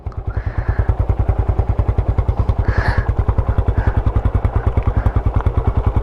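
A Yamaha Raptor 250 quad's single-cylinder engine pulls away, a loud, close, rapid steady thumping putter that climbs slightly in pace with a few faint clattering sounds on top.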